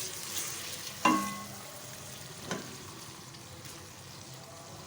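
Onions with ginger garlic paste fry in a pan, giving a soft continuous sizzle with a few sharper clinks and scrapes of a spoon stirring, close and fairly quiet with no talking.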